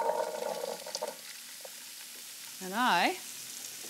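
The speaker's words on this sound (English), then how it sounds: "And then spill the chickpeas right into the oil." Chickpeas spilled into hot olive oil with garlic, a broad sizzling hiss that tapers off, with a brief spoken word at the start and a short melodic tone near the end.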